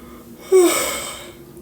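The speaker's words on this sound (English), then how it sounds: "I keep yawning." A single drawn-out yawn, breathy and rising then trailing off over about a second, close to the mic in a quiet room.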